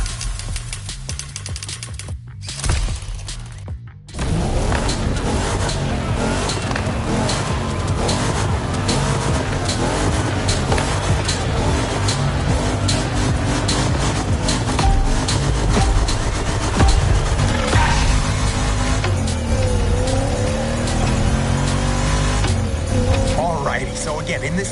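A car drives hard in an action film scene, a loud, sustained engine roar that rises after a brief pause, with voices talking over it.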